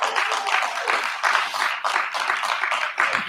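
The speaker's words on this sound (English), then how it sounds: "Can we get a round of applause for this podcast here at 500 episodes?" A live podcast audience at a 500th-episode celebration in the Northwest claps steadily, a dense, even wash of applause from start to finish with no voices over it.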